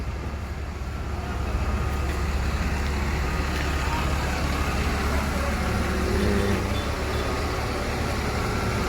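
A Bandung-bound bus idles with its engine running, a steady loud low rumble and broadband drone that holds throughout, with faint background voices in a busy lot.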